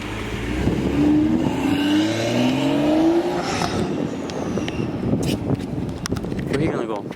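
2023 Toyota Supra 3.0 manual fitted with a CTS intake, engine revving up in rising sweeps then settling into a loud steady drone, with people talking over it.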